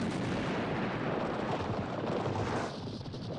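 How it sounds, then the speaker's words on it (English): Cannon fire of grapeshot in a battle scene from the 1970 film Waterloo, a continuous dense roar of booming blasts and rumble, loud and close, easing slightly toward the end. "they're gonna fire grape, which is just basically a shotgun blast"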